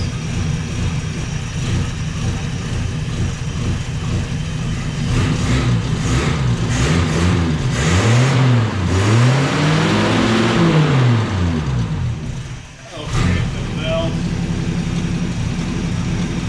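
An abandoned 1948 Studebaker engine, left sitting for 35 years, runs at a steady idle and then revs up and down in several rising and falling sweeps before briefly dipping and recovering, loud and close, with no speech.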